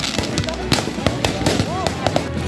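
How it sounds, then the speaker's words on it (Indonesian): Firecrackers go off in a street clash between two groups, a rapid irregular string of sharp pops and bangs over crowd noise and voices, with a whistling rocket rising partway through. "Dua kelompok saling serang menggunakan petasan."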